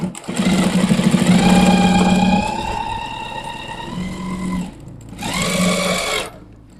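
Sewing machine stitching a qameez front placket in one continuous seam, a steady whirring run that pauses briefly and then resumes for a shorter burst, close and fairly loud.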